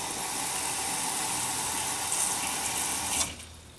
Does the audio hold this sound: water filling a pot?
yes